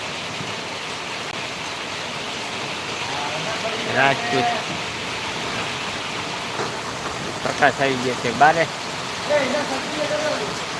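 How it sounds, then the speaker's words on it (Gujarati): Heavy monsoon rain pouring down steadily in a Gujarat village, a dense, even hiss throughout, with people talking intermittently over it partway through. "બરોબરનો વરસાદ જામી ગયો છે"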